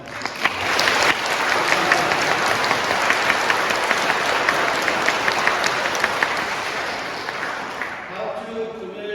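An audience at a church lecture series breaks into sustained, loud applause, dense clapping that holds steady for about eight seconds before tapering off, with a voice speaking as it fades.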